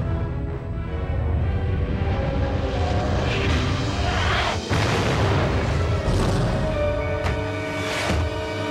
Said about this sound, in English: Danger. Warhead detonation imminent.